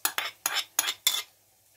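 Metal utensil scraping and clinking against a bowl while mixing an eggplant dish, five distinct strokes in a steady rhythm, close and clear with no voices.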